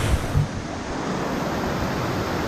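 A waterfall near Kinney Lake on the Berg Lake trail in the Canadian Rockies rushes as a steady broadband roar, with a few low wind buffets on the microphone at the start.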